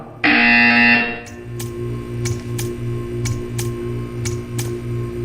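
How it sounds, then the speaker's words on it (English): In the video game Portal 2, a loud, steady electronic buzzer tone sounds for about a second, then a quieter stretch with a low hum and a series of regular sharp ticks. "You will hear a buzzer."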